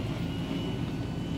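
An RV slide-out motor runs with a steady, close mechanical drone that holds even and strong throughout the short stretch, with no talking.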